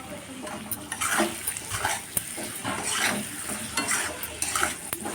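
Spice masala is fried and stirred for a paneer curry, a moderate sizzle under uneven scraping and clinking of a utensil against the pan, with faint background noise.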